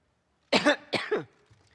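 Two or three harsh, close coughs from a speaker during a Conservative Party conference speech burst out after a moment of silence, then trail off into quiet.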